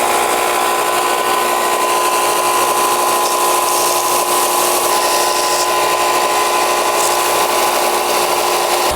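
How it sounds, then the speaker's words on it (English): Power sander grinding the base of a cast resin bobblehead flat, a loud, steady abrasive whine and rasp running continuously without pause, no talking. "You can see the sander makes really quick work of that job."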